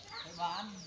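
A jungle fowl clucks once nearby, a short throaty call heard on its own in a quiet outdoor setting.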